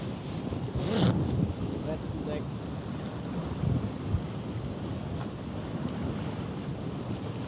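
Strong force 6 wind at sea roars and buffets the microphone in a steady, rough rush, with surf and water noise beneath and a brief louder gust near the start.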